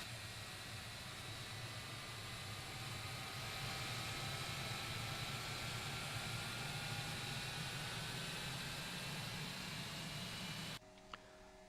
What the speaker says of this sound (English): So engine number 2 starting up